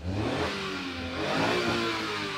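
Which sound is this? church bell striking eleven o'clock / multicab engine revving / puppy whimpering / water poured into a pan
multicab engine revving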